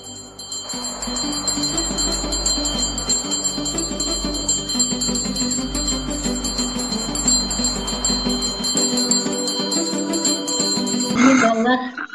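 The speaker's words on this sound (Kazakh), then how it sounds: "11 класты бітіруші түлектердің қоңырау соғу салтанатымен" At an 11th-grade graduates' last-bell ceremony, a school handbell rings steadily and continuously for about eleven seconds, bright and close, over faint background music, then stops abruptly.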